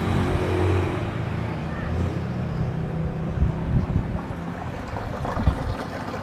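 Water flows through plumbing pipes into a storage tank, a steady broadband rushing that holds at a fairly even level for the whole stretch, with a few brief bumps and swells.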